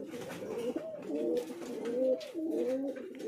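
Fancy pigeons coo in a home loft, a close series of soft, throaty rolling coos that overlap one another in a steady rhythm, with faint background noise.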